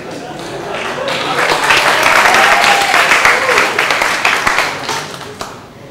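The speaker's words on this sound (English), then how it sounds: "Come, everyone, clap for me" An audience in a lecture hall breaks into loud, sustained clapping that swells and then tapers off over several seconds, with a few voices mixed in.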